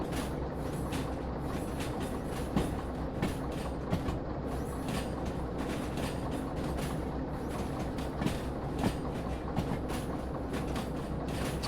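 In the video game Derail Valley, train cars roll steadily along the track, a continuous rumble with faint rhythmic clicks of wheels over rail joints, no talking.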